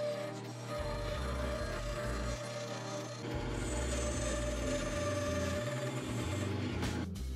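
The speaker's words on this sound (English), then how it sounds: "I used my bandsaw to cut this out." Bandsaw slicing through a piece of scrap pine lumber, a steady loud motor hum with continuous rasping blade noise throughout, no pauses and no voices.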